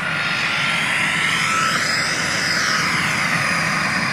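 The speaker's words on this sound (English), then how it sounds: "Plane's here." An airplane engine drones steadily and loudly at a skydiving site, a continuous broad roar holding level throughout with no voices.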